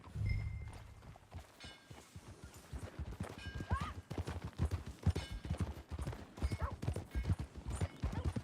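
Horse hooves clip-clop at a steady riding gait in Red Dead Redemption 2, distinct rhythmic thuds close by, with a brief whinny and soft ambient outdoor sounds in the background.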